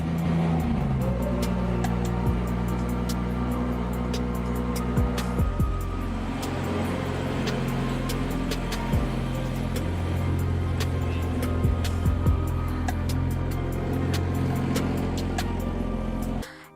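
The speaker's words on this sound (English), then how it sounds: "it's got that cold start that just makes everything in the garage vibrate" A BMW M140i's engine idling after a cold start in a garage, a steady, loud low rumble with a few small blips and revs over about sixteen seconds before it cuts off abruptly.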